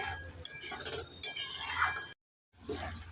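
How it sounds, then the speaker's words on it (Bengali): A spoon stirs boiled potatoes in a cooking pot, with close scraping and clinking against the metal in short bursts, a brief silent break, then more stirring. "একটু নেড়ে ছেড়ে দিয়ে দেব"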